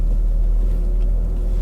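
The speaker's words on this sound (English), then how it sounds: "that 3 litre, it's just a really good engine, that. Really smooth," Low, smooth idle rumble from the 3.0 litre V6 engine of a Jaguar X-Type AWD estate, steady and close, with no talk over it.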